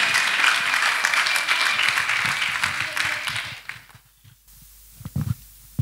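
Church congregation applauding during a ministry service, a loud sustained round of clapping that fades out, followed by a few faint scattered claps and rustles.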